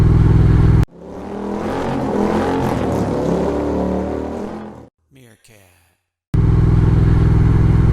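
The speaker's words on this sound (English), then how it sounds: "Riding this Thruxton R out" Triumph Thruxton R motorcycle on a Saturday morning ride, its engine droning loud and steady as it cruises, then briefly dropping away before the loud riding roar returns.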